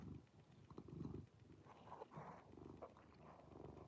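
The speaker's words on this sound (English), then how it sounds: "Listen to his purr." A male cat's purr, close and very quiet, a steady low rumble pulsing with each breath throughout, with no voices.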